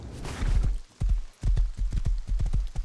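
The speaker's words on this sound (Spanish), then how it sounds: "Hay dos caballos." Two horses in the video game Rust clip-clop steadily over the ground, with loud, close, rhythmic hoofbeats and brief pauses and no talking.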